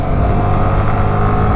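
A Yamaha R15 V3 motorcycle engine hums loudly and steadily up close, a continuous buzzing drone held for the whole short stretch.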